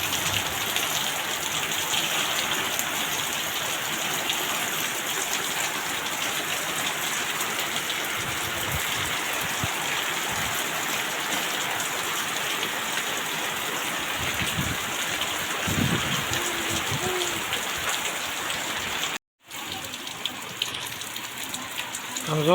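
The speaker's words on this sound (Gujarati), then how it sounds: "બહુ વરસાદ પડે." Heavy rain pours steadily in a village setting, a dense, loud hiss of water drumming on surfaces and running across a road, continuous and close throughout with a brief dropout near the end.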